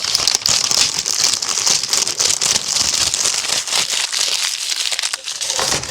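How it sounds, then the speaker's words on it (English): Cylinder head lifter from a Cadillac 472 V8 being wrapped in paint paper, a continuous close, loud crinkling and rustling of paper with no speech. "wrap it up in some paint paper"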